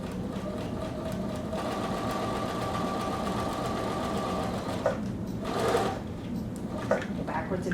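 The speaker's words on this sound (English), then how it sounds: "So you're going to have to sew shorter increments before going around the curve." Sewing machine stitching bias tape trim onto a pocket in short increments around a curve, a steady close whir running throughout with a few soft clicks near the end.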